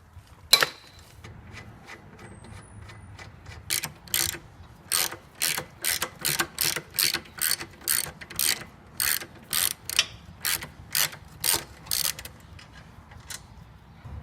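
A hand ratchet loosening lower frame bolts on a Suzuki M109R Boulevard motorcycle during engine removal: a steady run of crisp clicking strokes in a regular rhythm, close and clear in a quiet space.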